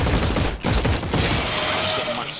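Rapid gunfire in the video game The Cycle, a dense burst of automatic shots in the first second followed by more continuous firing and a fading tail, loud and close.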